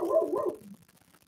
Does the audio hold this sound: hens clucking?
no